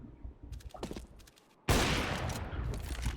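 Spam-shot gunfire in CS:GO: after a few faint clicks and a pause, a loud rapid burst of rifle shots bursts in and keeps going in quick succession, close and dense.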